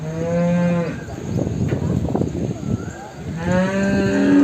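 Buffaloes low at the Erragadda buffalo market, two long harmonic moos near the start and end of the stretch, with market chatter and crowd noise filling the gap between them.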